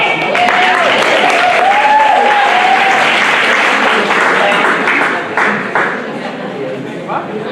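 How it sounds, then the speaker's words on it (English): An audience at a January weigh-out event applauds steadily and loudly for the whole stretch, a thick wash of clapping with some voices and chatter mixed in. "Give Abby a round of applause."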